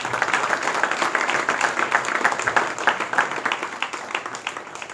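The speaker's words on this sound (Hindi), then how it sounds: "ताली होनी चाहिए" Audience clapping at a PCC road inauguration ceremony, with crisp individual claps forming an uneven, lively patter. It is moderately close and rises and dips slightly before thinning toward the end.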